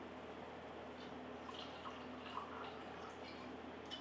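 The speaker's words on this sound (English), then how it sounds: "That was a big pour." Glen 12 Double Oak Scotch poured generously into a glass, a faint, steady liquid trickle with a few soft splashes over quiet room noise.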